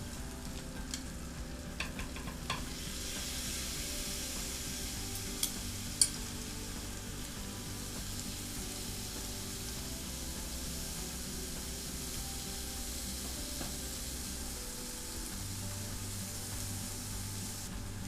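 Shrimp sizzle in butter on a flat griddle, a steady moderate frying hiss that continues throughout with a few faint clicks and no talk.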